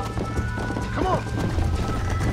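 Horse hooves clip-clop at a gallop in the video game Red Dead Redemption, a quick steady rhythm under game music, with a brief whinny and someone speaking over it.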